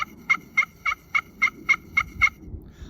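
Eight evenly spaced turkey yelps from a Beaver Creek turkey game call, crisp with a slight rasp, sounding close and clear over a low background rumble, then stopping.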